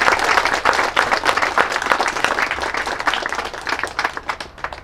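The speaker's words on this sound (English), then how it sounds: "we should all give the new director of solid waste and sewer, John Louise, a round of applause" An audience claps and applauds for the new director of solid waste and sewer at a transfer station trucks ribbon cutting; dense, steady clapping from a crowd, fairly loud and close, with no talk over it.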